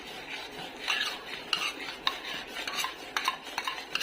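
Spoon stirring thickened cow or buffalo colostrum with fresh cream in a pan, heard as close, uneven scraping and clinking taps against the metal, with no voices.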